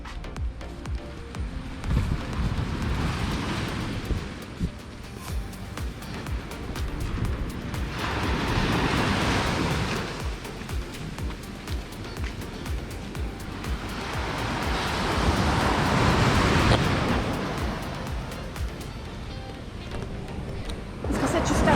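Ocean waves breaking on a beach at Koh Lipe, Thailand, three broad surges of surf rising and falling over steady wind rumble and microphone buffeting, near and loud.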